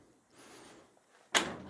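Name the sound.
1929 Chrysler car door being raised on hinge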